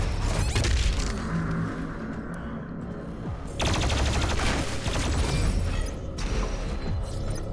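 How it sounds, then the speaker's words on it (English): Shotgun blasts in the fast-paced shooter DOOM Eternal, heavy booming shots over a dense, loud wall of game combat noise and mechanical effects, continuous throughout. "That weak shotgun."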